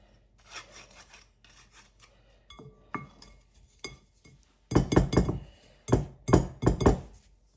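Spoon scraping and mixing pecan bread batter in a bowl, with scattered clinks and rasping scrapes that start light and sparse, then grow into louder, closer strokes against the bowl.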